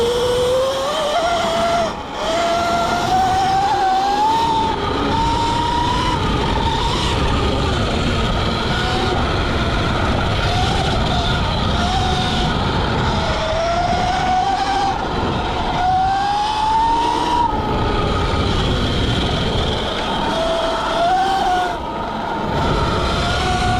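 An 80V 29kW Sur-Ron electric dirt bike ridden off-road, giving a loud, continuous motor whine that rises and falls with throttle over rough, rumbling terrain noise.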